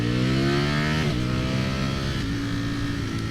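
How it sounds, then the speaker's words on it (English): Ducati Streetfighter V4S V4 engine revving hard under way, a loud, close, rising whine with a sharp shift about a second in and another later, no talk. "I think the V4 that Ducati has is one of my favorite engines right now."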